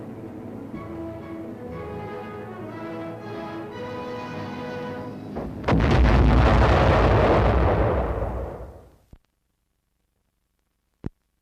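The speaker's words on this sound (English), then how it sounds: "it automatically explodes a projectile just before it reaches the target." An artillery projectile fitted with a proximity fuse bursts just short of its target: a steady whistling rush builds for several seconds, then a loud, broad explosion roars and fades to silence, followed by one sharp distant pop.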